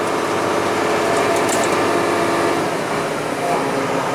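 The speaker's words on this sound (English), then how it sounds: "it trips the tying mechanism on its own" A New Holland BR780 round baler, hitched to a Case International 7120 Magnum tractor, works its tying mechanism: a steady loud mechanical clatter and whir running throughout, with a voice talking over it.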